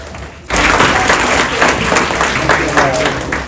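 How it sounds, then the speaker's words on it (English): Audience applause at a journalism awards ceremony, a sudden burst of dense clapping that starts half a second in and carries on loud and steady, with a few voices mixed into the crowd. "we can at least clap for him"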